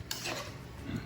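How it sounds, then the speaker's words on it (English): Zucchini salad with lemon juice tossed with tongs in a bowl, giving a soft, brief clink and moist rustle followed by light rolling and shuffling, quiet and close, with no speech. "I just take a set of tongs and I'm just gonna roll him around a little bit"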